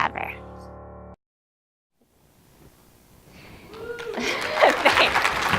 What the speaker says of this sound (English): Just keep the applause going.